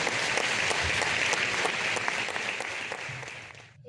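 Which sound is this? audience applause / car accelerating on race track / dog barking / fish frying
audience applause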